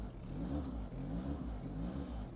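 A car engine, started with a VTOMAN FlashSpeed 1500 jump starter, idles with a low, rumbling, slightly uneven drone for a couple of seconds, quiet and steady, with no one talking.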